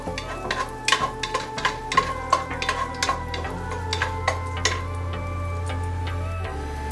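Garlic sizzling in a frying pan for a simple ground-meat dish, with a steady crackle and a low hum under a quick run of sharp clinks from stirring.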